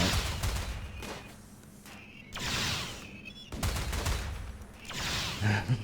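Bursts of gunfire in a Rimworld colony battle come in repeated waves, clustered volleys of rapid shots with quieter gaps between, moderately loud and with no talking over them.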